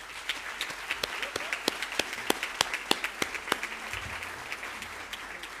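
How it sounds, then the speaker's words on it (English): Audience applause at a school awards ceremony, a steady patter of many hands clapping continuously, close and moderately loud, with sharp individual claps standing out. "Give yourselves another round of applause."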